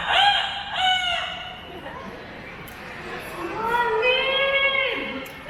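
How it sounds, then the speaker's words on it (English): An Amazon parrot crows like a rooster at a bird show, giving two short harmonic crow calls and then one long drawn-out crow, clear and close. "No, Lynn. That's an Amazon parrot."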